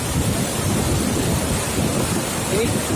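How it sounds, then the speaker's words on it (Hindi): Narmada river water plunges from height onto marble rocks at Dhuandhar waterfall, a constant thundering roar of falling water with no break, loud and close. "यहाँ से जो नर्मदा नदी का जल ऊंचाई से संगमरमर की चट्टानों पर गिरता है तो तेजी से जो है पानी धुआं बन के उड़ने लगता है"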